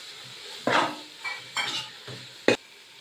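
Shallots, ginger, garlic and green chili being tossed in hot oil for a mutton biryani: a soft sizzle under several separate scraping stirs, each a short loud burst, with the last one sharp and clanking.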